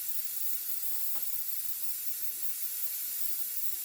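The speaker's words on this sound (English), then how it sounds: "Give it a good spray." Hairspray hissing out of an aerosol can onto model train layout scenery trees: one steady, close, continuous spray lasting several seconds, with no talking.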